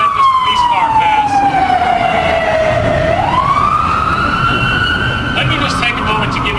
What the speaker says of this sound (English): Let me just take a moment to let this police car pass.